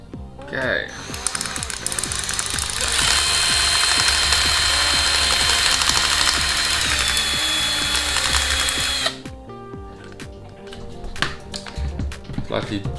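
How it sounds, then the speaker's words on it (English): A power drill fitted with a slightly larger bit whirs steadily for several seconds while smoothing out a hole in a Nerf Delta Trooper blaster, then stops, leaving scattered clicks and handling noises. "Slightly bigger drill bit just to smooth it out."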